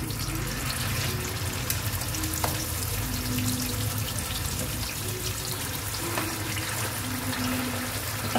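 Amla (Indian gooseberry) paste sizzling in hot ghee, a dense, steady frying hiss and crackle close by, continuous for the whole stretch with faint stirring underneath.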